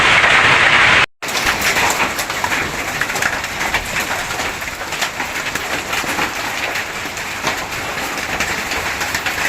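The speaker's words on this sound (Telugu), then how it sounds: "ముదోల్లో రాళ్ళ వర్షం పడుతుంది." Hail pelting down hard during an unseasonal storm in Mudhol, a dense, continuous clatter and hiss that stays loud and steady throughout after a brief dropout near the start.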